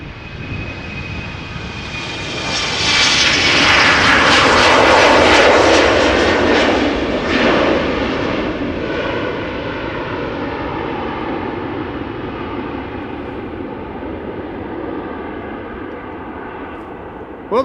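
An Embraer jet airliner passes at Amsterdam Schiphol, its engine roar swelling loud and broad over a few seconds, then easing into a steady, sustained rumble that lingers to the end.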